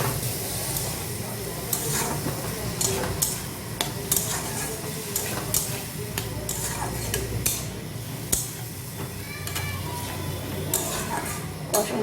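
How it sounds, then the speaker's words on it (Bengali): Drumstick and flower curry with ginger paste and a splash of water being stirred and sautéed in a pan, with soft sizzling, repeated scraping and clinking of a utensil against the pot, and a voice talking now and then. "এবার সামান্য একটু জল দেব, জল দিয়ে তাকে আমি কষিয়ে নেব।"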